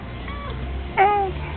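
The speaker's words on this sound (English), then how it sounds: "Look at that cat." A cat meows once, a short, clear call rising above a steady background hum, fairly close and moderately loud, with a faint earlier sound before it.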